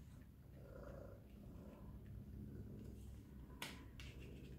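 A house cat purrs close by in a steady, low, continuous rumble, with one sharp click or snap partway through.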